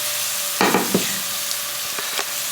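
Onions fry in a pan for a samosa filling, giving a constant hissing sizzle with a few close stirring knocks and scrapes, plus a faint steady hum underneath.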